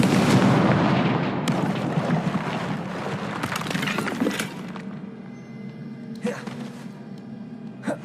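A Confringo fire spell from Hogwarts Legacy bursts as a loud, booming blast at the start, its rumble trailing off over several seconds, followed by a few fainter sharp cracks and impacts later on.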